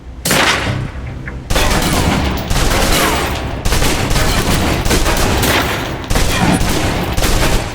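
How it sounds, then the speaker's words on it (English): A submachine gun in Alpha Protocol empties a full clip in loud, sustained automatic bursts, with several rapid strings of shots separated by tiny pauses, close and dense, no voices. "let's move on to the submachine gun. Now let's empty the clip"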